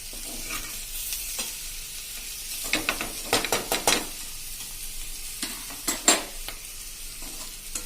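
Potato strips for a quick Gujarati batata patri fry being stirred in a hot pan, a steady low sizzle broken by a cluster of sharp scraping strokes in the middle and a couple more near the end, with no voices.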